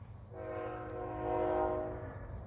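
A truck train passes with a sustained horn blast, loud in the middle and fading slightly toward the end, over the low rumble of the moving vehicle.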